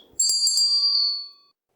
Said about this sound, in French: abonnez-vous et cliquez sur la cloche